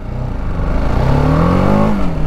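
A BMW G310R motorcycle with a 313cc liquid-cooled DOHC engine accelerates hard in first gear, its close, loud note rising steadily in pitch over a couple of seconds with no talking.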